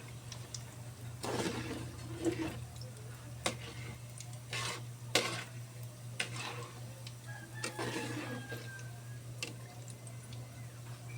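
Binangkal dough balls frying in oil are gently stirred, soft scraping strokes and light taps against the pan over a faint sizzle and low hum, irregular and fairly quiet, with no talking.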